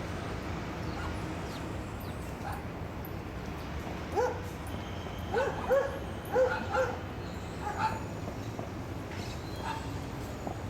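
Dogs in a city park area set aside for professional dog walkers and their charges, giving scattered yips, whimpers and short barks at moderate distance over steady outdoor ambience, clustered in the middle seconds.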